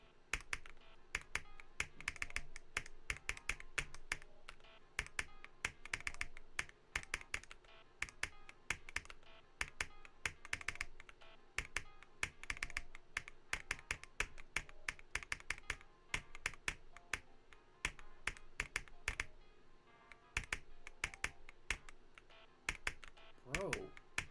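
Rapid, steady keystrokes on an Attackshark R82HE keyboard, a dense run of close, crisp clicks lasting throughout, with faint background sound beneath.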